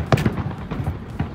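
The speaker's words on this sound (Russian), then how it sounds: "Салют в эту честь." A fireworks salute goes off outdoors in Tula. Deep booms and crackling bursts come in quick succession, loud and echoing, with several overlapping pops in a short span.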